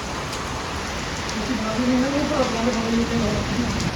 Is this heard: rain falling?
yes